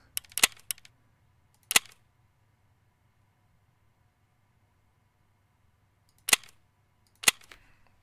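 Gunfire in the shooter game Escape From Tarkov: sharp cracking shots in small bursts, a quick cluster early, a single shot, then two more after a long quiet gap over a low hum.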